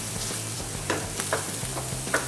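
Onion frying in butter in a pan for spinach soup, with a steady close sizzle broken by a few soft stirring scrapes and no talking.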